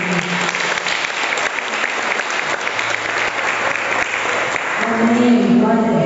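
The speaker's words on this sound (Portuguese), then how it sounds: "Então aplauda a Deus." A church congregation at a Sunday evening family service applauds loudly and steadily, with a voice rising over the clapping near the end.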